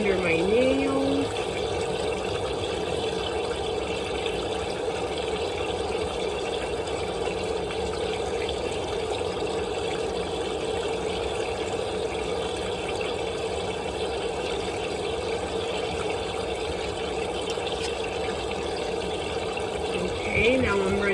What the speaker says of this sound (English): I want to, in a circular motion, start to wash my hands for a minimum of no less than 20 seconds